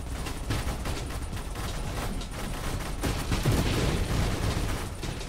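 Rapid minigun barrage fire in a video game, a dense continuous roar of overlapping shots that swells louder toward the end, steady and close with no talking.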